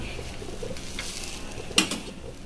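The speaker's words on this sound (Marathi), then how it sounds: "हे बघा मित्रांनो, इथे छान प्रकारे आपला पाव पण फ्राय होतोय।" Pav bread fries in butter on a pan with a soft continuous sizzle, a sharp utensil scrape or clack near the end, no talking.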